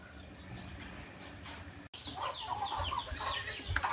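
A flock of chickens, turkeys and ducks clucks and chatters continuously in the background, with overlapping calls growing busier, moderately close, no talking.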